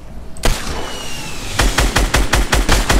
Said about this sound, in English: I'm gonna shoot them.